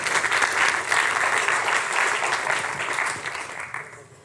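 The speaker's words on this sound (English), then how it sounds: "Give her a round of applause." Sustained applause from a symposium audience, a dense, even roar of many hands clapping at once, holding steady for several seconds before tapering away toward the end.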